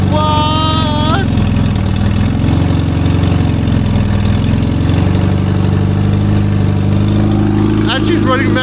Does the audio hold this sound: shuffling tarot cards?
no